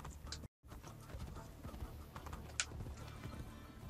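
Horse hooves clip-clopping in the Assassin's Creed Brotherhood video game, a quiet, steady run of hoofbeats with a brief dropout near the start.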